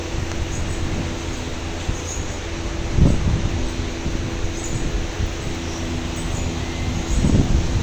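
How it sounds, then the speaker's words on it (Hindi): Strong wind blows steadily before a storm under dark clouds, a loud, broad rushing roar with heavier gusts around the third and seventh seconds and no talk. "तेज़ अब वो हवा चलना शुरू हो गई है"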